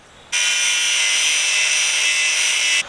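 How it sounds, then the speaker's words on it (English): An angle grinder cuts into a seized bolt on an MGB front crossmember, giving one loud, continuous high-pitched whine that starts abruptly and holds steady for a couple of seconds, close up. "I'm going to cut just in this little slit here with the angle grinder"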